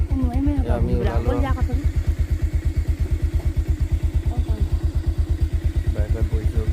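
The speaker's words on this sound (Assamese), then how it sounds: "বাইকত বহিছোঁ গোটেইকেইটা, গৈ আহোঁগৈ আৰু।" A motorcycle carrying several riders along a village road runs with a steady, close engine putter throughout, and voices speak briefly near the start.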